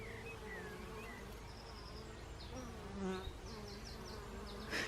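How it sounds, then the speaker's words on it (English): Honey bees humming steadily around a beehive, a dense continuous buzz close by with individual bees droning past now and then. "I can tell these are happy bees. It's a very happy hum"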